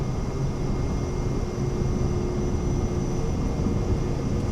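Steady, loud drone of an aircraft engine at full takeoff power in Microsoft Flight Simulator 2024, a constant propeller-like roar without pauses or speech.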